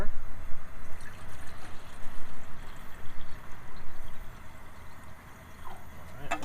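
Water pours from a canteen out of a Pathfinder kit into a container, with a soft, steady trickle and gurgle close by under a quiet voice.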